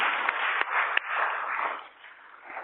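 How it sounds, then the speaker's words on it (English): Steady applause from an audience at a network retreat, a dense wash of many hands clapping with a few sharper claps standing out, holding fairly even before tapering slightly toward the end. "why don't we give Chuck a round of applause?"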